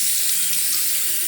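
Tap water runs steadily over a wet Vermont green slate honing stone used for straight razors, a continuous close hiss with no talking.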